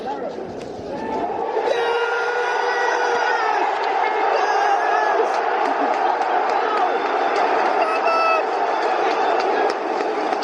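Brentford fans erupt in a loud, sustained roar after a goal against Bournemouth in a football stadium, a dense wall of shouting and cheering that rises sharply and holds steady throughout.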